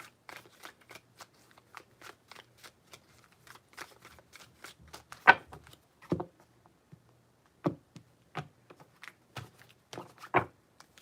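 Close, quiet shuffling of tarot cards, a series of short flicking and slapping card sounds in uneven rhythm, with near silence between them.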